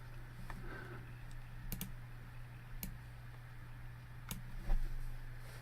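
Mouse and keyboard clicks on a computer, a handful of faint, sharp ticks scattered irregularly over a steady low hum.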